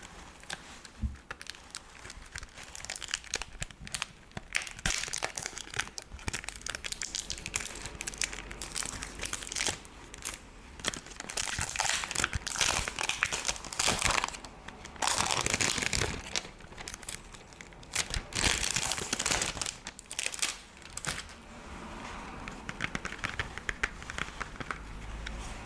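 Plastic wrap on a Taylor Swift CD jewel case crinkles continuously up close, a dense crackling texture with bursts of squeezing and rustling that swell and ease throughout, with no voice.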